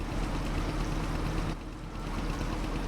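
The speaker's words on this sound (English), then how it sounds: "gotta have the engine running to refuel" A tractor engine idles during refuelling in a farming video game, giving a steady, loud, close rumbling drone that dips briefly partway through.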